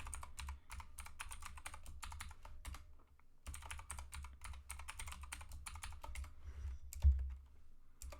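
A password typed on a computer keyboard: fast, steady key clicks close up, with a short pause midway and a firmer keystroke near the end.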